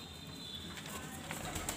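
Pigeons inside a home loft, with one bird sitting on eggs, give faint low coos and slight rustling against a steady background hiss, quiet and somewhat distant.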